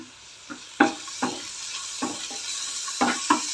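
Onions and turmeric being stirred into ragi masala dosa batter, giving soft wet scraping and squelching strokes in an irregular rhythm, close and fairly quiet with no talk.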